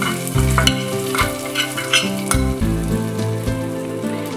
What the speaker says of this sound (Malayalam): കടുക് പൊട്ടിച്ചത് നമുക്ക് ഇതിലേക്ക് ഒഴിക്കാം.